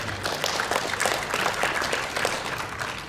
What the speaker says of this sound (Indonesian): Tepuk tangan buat Pak Kalen di 15 tahun.